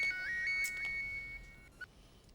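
A phone's electronic ringtone plays a few clear melodic beeps, close and fairly quiet, in an otherwise hushed room before fading.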